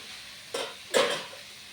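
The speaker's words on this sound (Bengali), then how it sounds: "আর আমি বসিয়েছি এখানে বাঁধাকপি ভাজা" Cabbage, lightly steamed, frying in a pan with a mustard-seed and dried-chilli tempering: two short bursts of sizzling and stirring, close and fairly quiet, over a low background hiss.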